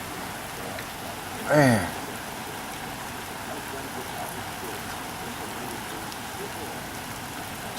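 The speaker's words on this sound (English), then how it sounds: "Sure getting a lot of rain for the month of August" Heavy August rain pours down steadily at a flooded pigeon farm in Sodus, Michigan, a dense continuous hiss, briefly interrupted by a short voice.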